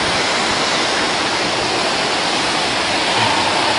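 A waterfall roars in a loud, unbroken wash of rushing water, steady and close, with no voices; Yongchu Falls on Juwangsan mountain, Cheongsong, South Korea.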